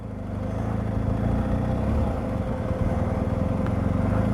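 A motorcycle engine held at steady revs with the rear brake applied gives a continuous, loud, even drone with no spoken voices.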